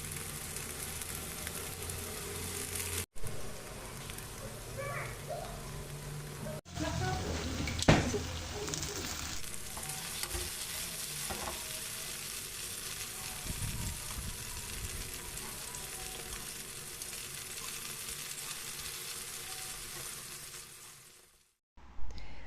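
Tomato slices sizzle and fry in olive oil in a pan with salt and dried thyme, a steady crackling hiss throughout, with a few brief clatters and a short pause near the start.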